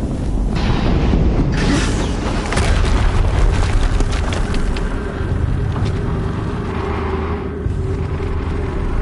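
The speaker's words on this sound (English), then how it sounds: "Another explosion." Another explosion in Horizon Zero Dawn, heavy low booming and rumbling that stays loud throughout, with a sharp burst around two and a half seconds and scattered crackles over continuous roaring noise.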